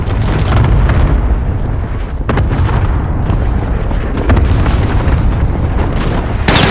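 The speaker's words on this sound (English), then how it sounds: "Cluster strike incoming. Take cover." A cluster strike in Call of Duty: Modern Warfare sets off a rapid chain of loud, overlapping explosions. The booms rumble on without a break, and a sharp new blast hits right at the end.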